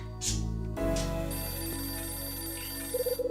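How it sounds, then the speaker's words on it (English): A telephone rings in a video game, Last Window: electronic ringtone bursts over a sustained musical drone, followed by a quick warbling ring pattern at the end, loud and close, no voices. "That damn phone again."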